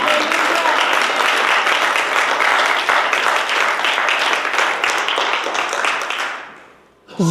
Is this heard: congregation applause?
yes